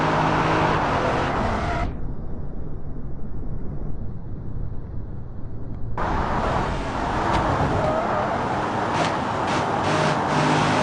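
Dodge Durango driving in BeamNG.drive, a steady engine and road rush that drops abruptly to a muffled, duller tone for a few seconds, then returns to the full bright drone.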